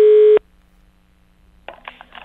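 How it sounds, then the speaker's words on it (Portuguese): Telephone dialing: a single loud keypad tone at the start, then near silence with a faint line hum before a ringback-like buzz begins. "Vamos ligar, liga aí, vai."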